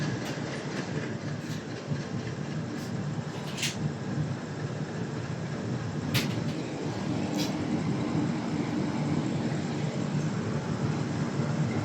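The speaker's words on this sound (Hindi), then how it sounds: "ओ भाई साहब क्या डीजल इंजन जा रहा है यार।" A diesel locomotive passes a train that is halted on a curve, its steady rumbling engine and rolling wheel noise loud and continuous, with a few brief clanks and squeals along the way.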